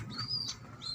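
Tippler pigeons moving about, with soft bird calls and faint wing flutters up close over a low background rumble for about a second.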